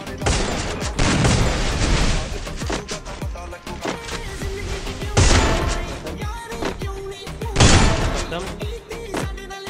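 Gunfire in Garena Free Fire, with loud close bursts of rapid shots and sharp single cracks repeating in clusters over a few seconds and echoing tails between the volleys.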